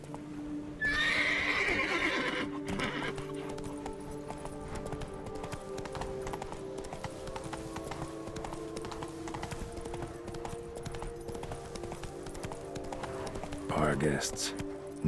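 Horse hooves clip-clop steadily through the Witcher 3: Blood and Wine game world, a continuous rhythmic trotting beneath game ambience, with a horse whinny and snort near the start and end.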